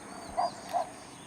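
A dog near an empty hotel by a forest in a Korean village gives two short barks about half a second apart, moderately distant, over quiet outdoor background.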